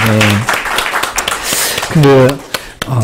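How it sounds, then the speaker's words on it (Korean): Church congregation applauding during a Sunday service in Korea to welcome a new youth-group staff member, a short burst of clapping with speech heard over it at the start and again near the end. "박수로 좀 환영해 주시면 좋겠습니다"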